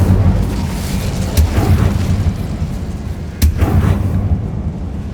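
Fire spells are cast in the video game Hogwarts Legacy, giving a loud, sustained roar with two sharp bursts standing out above a dense rumbling backdrop.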